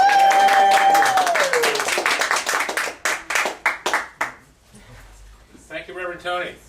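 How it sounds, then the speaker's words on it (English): A community church gathering applauds Al Gilbert with a burst of clapping that starts dense and lively, then thins into scattered individual claps. It follows a brief sung-out cheer, and a voice speaks as the clapping dies away. "Let's give him some applause."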